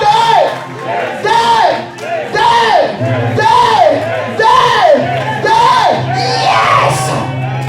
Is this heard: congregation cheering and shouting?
yes